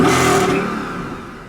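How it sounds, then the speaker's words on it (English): A Mercedes C63 engine with a custom tune and stock exhaust falls off after a rev, a loud, close roar that winds down smoothly over a second and a half. "just give me a few revs"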